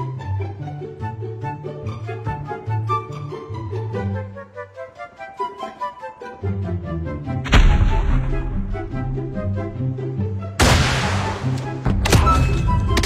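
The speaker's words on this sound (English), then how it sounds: "Rocket launcher." Rocket launcher fire in a game: two loud, booming blasts several seconds apart, each with a broad rushing tail, heard over steady tonal background music.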